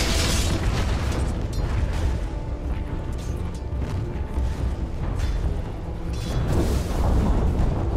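In Dota 2, a top tower comes under attack and collapses amid a dense, loud battle din of rumbling booms, bursts and impacts that swells again toward the end.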